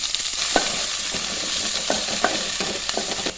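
Onion frying in oil in a hot pan, a continuous bright sizzle broken by repeated scraping stirs and occasional clinks, close up with no voices.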